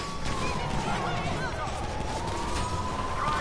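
A video game police car siren wails in a steady rising and falling tone, moderately loud beneath a person talking.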